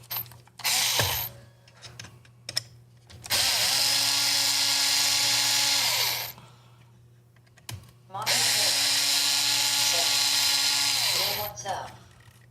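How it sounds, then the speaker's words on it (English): A stronger electric drill runs in two sustained bursts of about three and five seconds, loud and steady with a whining tone, separated by pauses filled with clicks, handling noises and faint background sounds during an urban workshop build. "Get the stronger drill."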